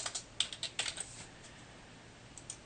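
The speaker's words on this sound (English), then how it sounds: "And if I type in my name" A name is typed on a computer keyboard as a quick burst of light, close clicking keystrokes that thins out into a few scattered taps, with no talking.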